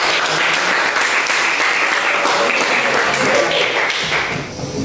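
A classroom audience claps for a student group after its presentation, a dense, loud and steady burst of applause that fades near the end.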